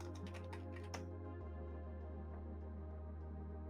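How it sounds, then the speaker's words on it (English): Raven typing on a computer keyboard during a late-night stream, a run of quick, faint key clicks over a steady low hum, with no talking. "Everybody just started listening to Raven typing."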